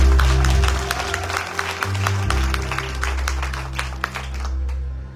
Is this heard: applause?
yes